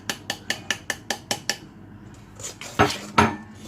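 A utensil mixes flour and cornstarch in a bowl, starting with about eight evenly spaced, ringing clinks against the bowl, then a softer scraping stretch ending in two louder knocks.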